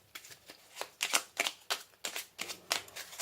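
Tarot oracle cards being shuffled, a series of crisp riffling bursts in an uneven rhythm, close and clear, with no voices.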